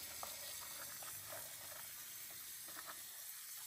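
Running water rinses pozole ingredients in a small bowl at a kitchen sink, a steady hiss with faint clinks, close and alone without talk.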